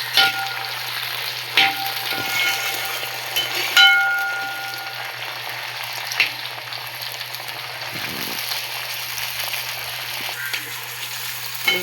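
Onions and chilies frying in a pan make a continuous loud sizzle, broken by a few sharp clinks and scrapes of stirring, with no talk over it.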